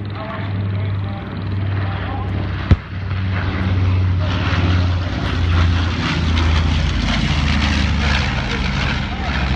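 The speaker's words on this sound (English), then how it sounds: "as the Red Stars pass directly overhead with the smoke trail." Red Stars WWII warbirds passing directly overhead trailing smoke at the EAA AirVenture Oshkosh 2015 airshow, a loud sustained propeller-engine drone that swells as they pass, with a sharp bang early on and a voice talking over it.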